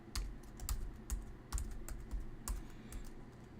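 Keystrokes clatter on a computer keyboard while code is typed, uneven bursts of clicks with short pauses, close and fairly quiet, no voices.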